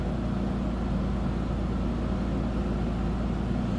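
A 1986 Nissan 300ZX T-top idles with a steady, low engine and exhaust rumble, close by and unbroken with no revving, no one speaking over it.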